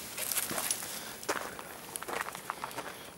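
A dog moves through brush in dark woods at night, giving faint rustling and crackling of leaves and twigs in irregular steps against a steady hiss of background noise.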